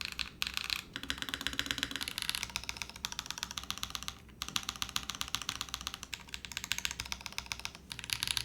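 Rapid, continuous clacking of a Razer BlackWidow 75% mechanical keyboard dampened with polyfill, with dense overlapping keystrokes and brief pauses, close and crisp with a plasticky tone.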